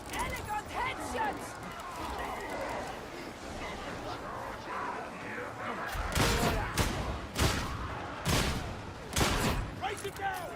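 Gunfire from The Division 2, with rapid bursts and a run of sharp, loud shots clustered in the second half over a busy background of game sound and speech.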